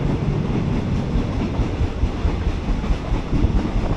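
Ordinary train 259 rolls from Taling Chan junction toward Salaya, with a continuous loud rumble of wheels on track and a faint rhythmic clatter, heard from inside the carriage with no talking.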